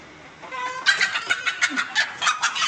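A brooding village hen sitting on three eggs gives a run of rhythmic, insistent clucks, close and fairly loud, after a brief quieter lead-in, with no speech.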